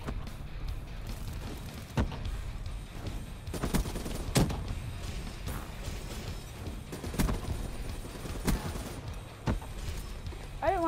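Bursts of rapid gunfire from Call of Duty Black Ops 3 in a team deathmatch, repeated sharp shots and volleys scattered across the clip over constant game noise, with a player's voice talking over it.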